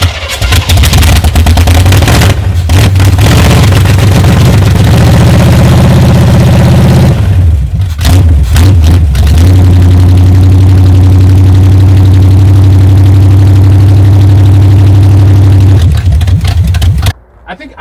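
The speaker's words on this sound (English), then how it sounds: "I think it may idle now." A 1978 Chevy K10 truck engine, started after sitting 27 years, runs loudly and close with a deep rumble, rises and dips, then settles into a steady idle before cutting off; voices are heard.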